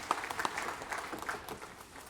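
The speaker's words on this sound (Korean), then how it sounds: "영광의 박수가 하나님께 드리겠습니다" A church congregation gives brief applause during a worship service, scattered claps at moderate distance that fade within about two seconds.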